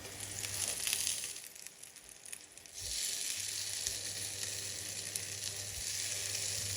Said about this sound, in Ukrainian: Смажимо також по 5 хвилин з кожної сторони, але вже під накритою кришкою.